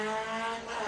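The engine of a 2-litre Volkswagen Beetle race car at a historic hill sprint gives a brief, sustained harmonic drone, held steady for about a second.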